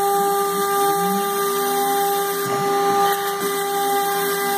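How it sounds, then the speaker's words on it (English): A CNC router cuts lite ply for an RC plane, giving a steady high whine with fixed tones and a shifting lower grind as the bit moves through the wood, loud and continuous with no talk. "this is what I do with my CNC router"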